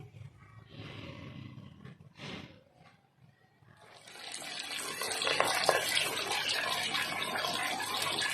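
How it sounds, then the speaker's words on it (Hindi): Fish pieces slide into hot oil in a kadai, bursting into a loud, steady, close sizzle that fills the second half after a quieter start with a few soft kitchen noises. "अभी गरम ऑयल में फ़िश के पीसेस मैं डाल देती हूँ फ्राई होने के लिए"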